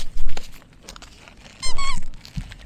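A dog chews a Spider-Man squeaky toy, giving a couple of short, bright squeaks amid soft crunching and mouthing sounds, close by and with no voices.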